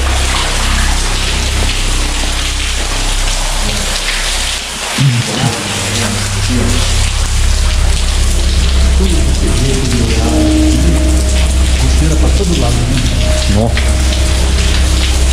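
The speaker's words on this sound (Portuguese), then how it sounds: "no tempo de chuva ainda" Heavy rain inside an abandoned hospital in Cambé, Londrina, with water leaking through the building, a loud continuous hiss of drops on surfaces for the whole stretch and a brief word spoken near the start.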